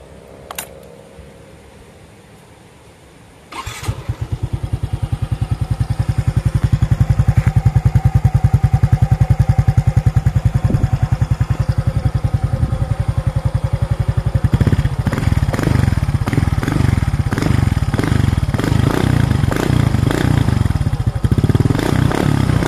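A Yamaha Mio i 125 motorcycle with an aftermarket Sun Power exhaust pipe starts up after a quiet moment, then idles with a loud, throaty, crackling rumble and occasional blips of revving.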